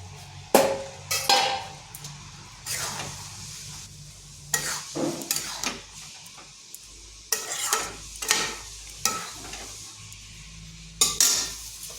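A spoon stirs cooked masoor dal together with a fried egg bhuja in a pan, making irregular scraping and clinking knocks against the metal over a soft background sizzle.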